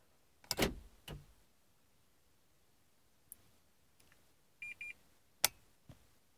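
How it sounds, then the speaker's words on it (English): Quiet mechanical clicks and thumps, then a short double electronic beep from a 2007 Renault Kangoo signalling the automatic door lock setting, followed by a couple more sharp clicks in a quiet setting. "when I press and hold you can hear beep"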